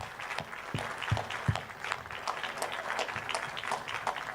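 An audience applauds Ivanka Trump at the opening of the US Embassy in Jerusalem, a moderate crowd clapping steadily with a few sharper close claps near the start.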